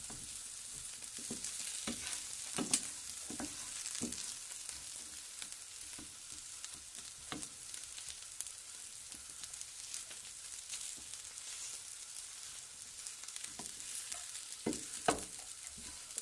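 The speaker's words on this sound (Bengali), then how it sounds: "পনিরগুলো ফ্রাই হয়ে গেছে, এখন আমি নামাই নিই।" Paneer frying in oil gives a steady close crackle and sizzle throughout, broken by scattered sharp pops and stirring scrapes, with no talk.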